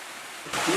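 Water pouring into the intake of a sawmill turbine, a steady broadband rush that swells noticeably louder halfway through, close and continuous with no talking.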